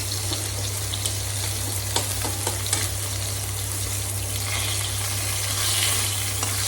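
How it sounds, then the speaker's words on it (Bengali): Fish pieces seasoned with salt and turmeric frying in oil, a dense, even sizzle and crackle close up, with a few stirring scrapes and a steady low hum beneath, no talking. "এদিকে মাছটা সুন্দর ভাজা হয়ে গেছে।"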